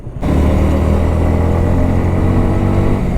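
A Kawasaki ZX6R motorcycle with an Arrow titanium exhaust cruises on a highway, its engine a loud, steady, close drone that starts abruptly and holds an even pitch throughout, with no voices.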